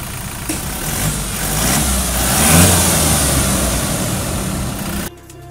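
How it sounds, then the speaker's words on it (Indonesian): A Toyota Fortuner facelift with a stock diesel engine and an aftermarket exhaust starts up and revs, the engine note climbing to a loud peak and then settling before cutting off abruptly. "Kita pengen startup dulu dengan suara mesinnya, walaupun mesinnya standar, tapi kan exhaustnya sudah diganti."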